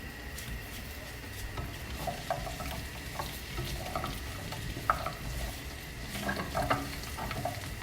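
Trader Joe's kale gnocchi crisp in a frying pan with a steady low sizzle, broken by occasional clinks and stirring scrapes of a utensil against the pan, no voices.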